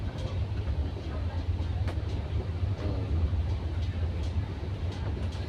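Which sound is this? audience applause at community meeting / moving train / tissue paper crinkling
moving train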